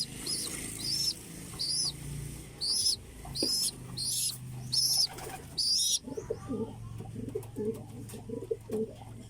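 Pigeons in a home loft, breeders, flyers and squabs, give a run of repeated bright chirping calls for several seconds, then low murmuring coos against soft background noise.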